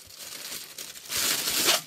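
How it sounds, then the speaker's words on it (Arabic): A plastic storage bag crinkles steadily as fresh mangoes are bagged for freezing. The rustle is close and continuous and grows louder toward the end, with no voices. "بحط كل واحدة في كيس."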